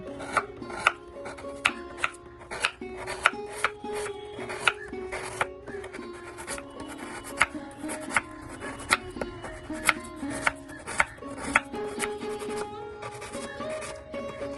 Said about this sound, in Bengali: এবার আমি 200 গ্রাম খেজুর পাটালিকে ছুরি দিয়ে গ্রেট করে রাখছি